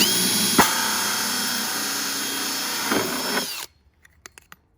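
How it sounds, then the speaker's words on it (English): A power drill whines loudly at a steady high pitch for about three and a half seconds while drilling a water drinker for breeding cages, then stops, leaving a few light clicks and taps. "All right, and we're gonna drill."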